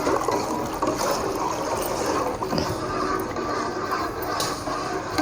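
Hot water pours steadily into a kheer mixture in a pot while it is stirred, a continuous rushing, trickling flow that stays fairly loud and close throughout.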